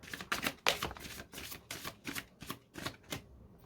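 Tarot cards drawn and laid down one after another, four cards asked for: a run of crisp, close snapping and flicking sounds in short regular bursts, with no talking.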